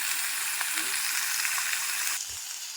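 Vegetables for a Bengali dish sizzle in a hot pan with a steady, bright hiss. A couple of faint stirring taps come through before the sizzle drops a little quieter near the end.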